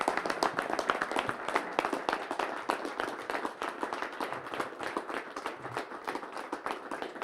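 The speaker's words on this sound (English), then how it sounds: "Let's give him a round of applause." A hall audience at a farriers' association Hall of Fame event applauds T.J. Jones with a steady, moderately quiet patter of many hands clapping that keeps going throughout.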